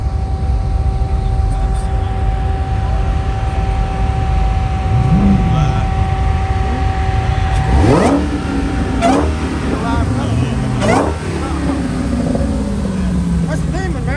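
A Corvette engine revving as it drives past at a Coffee & Cars car show, several sharp throttle blips rising and falling, with a growing exhaust roar fading away, amid outdoor crowd noise and voices.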